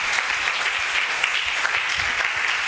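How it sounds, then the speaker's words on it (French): Steady applause and cheering from a church congregation fills the whole stretch, a dense, continuous wash of clapping at moderate loudness. "Est-ce que tu peux acclamer très fort?"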